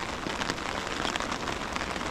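Steady rain patters densely on surfaces all around, with no other sounds standing out.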